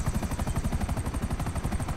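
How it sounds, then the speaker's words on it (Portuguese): A helicopter flies close by in the GTA 5 video game, its rotor blades beating in a fast, steady chop that stays loud and constant throughout. "Lá, um helicóptero ali. Esse helicóptero é de quem, mano?"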